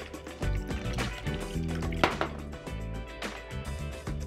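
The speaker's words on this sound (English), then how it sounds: "And then you pour this over a nice size ice cube." A cocktail poured from a shaker over a large ice cube, with soft liquid splashing, clinking ice and a few sharp glassy knocks, fairly quiet and close.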